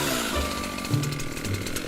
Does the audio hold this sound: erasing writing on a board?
no